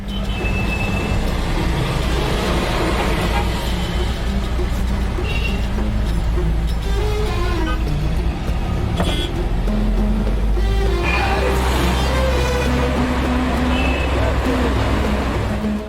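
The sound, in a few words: street traffic in Cairo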